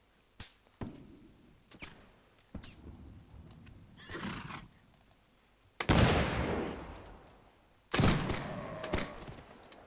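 Musket volleys in the Napoleonic battle game L'Aigle, sharp isolated shots at first, then heavy rolling fusillades of many guns firing together, growing louder, with horses whinnying in between.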